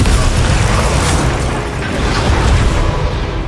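A continuous, loud, roaring blast from the Bombarda blasting spell in the game Hogwarts Legacy, a dense rumbling explosion that fills the whole moment with no voices over it.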